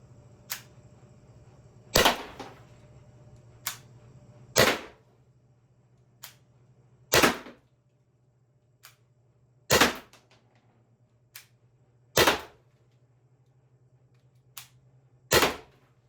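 Sharp snapping shots from an Umarex HDP50 pistol fired at a board, about a dozen cracks spaced irregularly over sixteen seconds, alternating louder and softer reports over a faint steady hum, with no talking.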